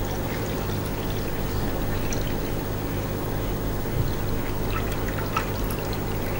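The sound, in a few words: pouring distilled rainwater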